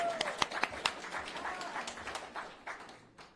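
Scattered clapping from a small crowd at an outdoor school voucher protest, faint and uneven with a few sharper claps standing out and a murmur of voices underneath.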